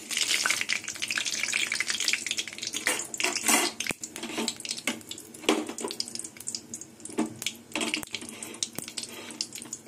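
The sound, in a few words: nigella seeds sizzling in hot oil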